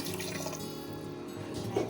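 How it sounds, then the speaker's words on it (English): Water poured by the cupful into a jar while making nihari, a steady splashing pour that is moderately loud and continuous, with no talking over it. "Okay, so now we're gonna add the cups of the water."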